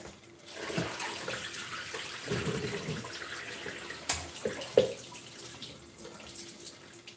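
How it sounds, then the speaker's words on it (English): Water pours and splashes as washed, halved potatoes are drained in a kitchen, a steady running wash with a few sharper knocks and splashes midway, close and moderately loud, with no talking. "So I'm just going to drain these off."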